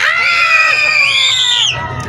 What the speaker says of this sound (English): So we're going to add a scream as loud as possible.